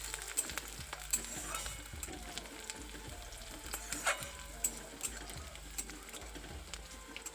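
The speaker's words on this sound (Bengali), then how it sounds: "একটু ব্রাউন কালার করে ভেজে নিতে হবে।" Sliced onion and green chili frying in oil in a pan, giving a steady soft sizzle with faint crackles and occasional utensil taps, fairly quiet throughout.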